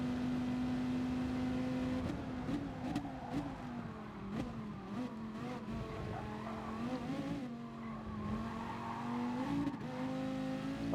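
Dodge Viper SRT racing a hot lap in GT Sport: a loud, steady engine drone with shifting pitch as it accelerates and lifts, plus intermittent tyre squeal through corners, with no talking.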